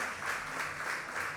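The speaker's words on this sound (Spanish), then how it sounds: "Aplauda a las familias nuevas que han llegado a la casa." A church congregation applauds newly arrived families, a steady wash of many hands clapping at moderate level with no voices standing out.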